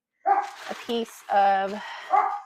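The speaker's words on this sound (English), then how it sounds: "I'm sorry, that's my dog." A pet dog barks indoors several times in quick, sharp bursts, close and moderately loud, with a person speaking briefly between the barks.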